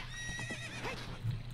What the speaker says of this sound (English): Cut it out, you stupid horse.